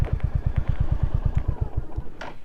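A motorcycle's engine thumps in a steady, close, loud pulse as the bike is brought in to park at a tourism bungalow in offbeat North Bengal, the beats slowing and fading out toward the end.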